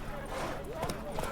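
Hooves of a horse clip-clop in The Witcher 3 video game, a brief rhythmic patter mixed with game sounds and layered under continuous talking.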